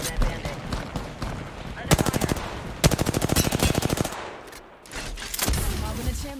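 Automatic gunfire in Apex Legends, played as Bangalore, comes in rapid bursts of loud, evenly spaced shots with brief pauses between them, while players talk over it.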